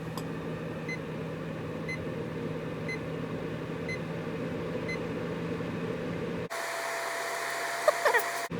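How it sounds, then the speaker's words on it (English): A brand-new classic ceramic heater runs on high heat with a steady, loud fan whoosh and a low electrical hum that cut off abruptly near the end, leaving a quieter hum and a few faint clicks. "A brand new classic ceramic heater."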